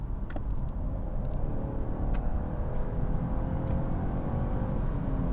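A 2023 BMW 530i with an inline-4 engine pulling hard at full throttle, a steady low rumble of engine and road noise that holds loud and even from start to finish, with no talking.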